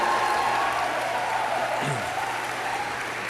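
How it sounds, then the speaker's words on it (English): A graduating class applauds at a convocation ceremony, a dense, sustained wash of many hands clapping together at even loudness throughout, with a faint voice briefly rising within it. "reciprocate by applauding your friends and family, faculty and staff, and all who have helped you along the way"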